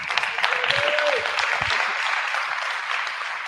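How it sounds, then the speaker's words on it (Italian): Basketball fans in the stands of an arena clap loudly and steadily at a player presentation for Benedetto XIV, with a few whoops rising over the applause. "Sento già gli incitamenti dei tifosi che dagli spalti arrivano."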